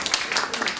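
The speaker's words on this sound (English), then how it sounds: "Give them a round of applause again." Brief applause from a lecture audience, a dense patter of close hand claps lasting under a second.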